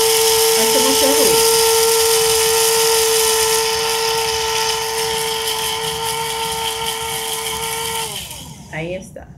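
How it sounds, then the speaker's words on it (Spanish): A small electric grinder pulverizes three spoonfuls of black seeds with a loud, steady whining hum that starts with a brief rising rattle, holds for about eight seconds, then winds down and stops with a few clicks. "Puede ver cómo está moliendo."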